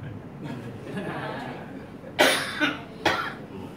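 Several short coughs, fairly close, over a quiet murmuring background; three distinct bursts near the end.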